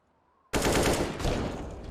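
Automatic gunfire in Counter-Strike bursts in abruptly after near silence, a loud continuous spray of rapid shots that holds steady to the end.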